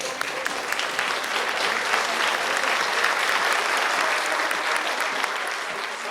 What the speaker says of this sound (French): Je vous demande un tonnerre d'applaudissements pour Int